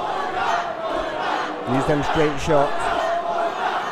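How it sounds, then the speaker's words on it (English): A boxing crowd roars steadily for the Rochdale fighter during a bout, a dense continuous wall of cheering with a commentator talking over it. "The crowd very vocal for the Rochdale man."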